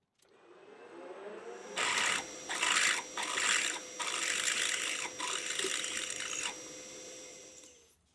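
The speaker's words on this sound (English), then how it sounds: "I'm drilling all the way through the clamping section with a tap drill." A tap drill bores through a metal clamping piece, grinding in several bursts of cutting over a steady machine hum, fairly quiet and close.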